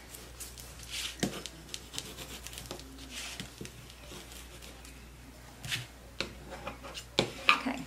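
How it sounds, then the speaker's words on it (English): A bone folder rubs and burnishes paper on a mini album craft project, giving faint, close scraping strokes in irregular bursts with small taps and pauses between them. "Take my bone folder or something I can rub it with."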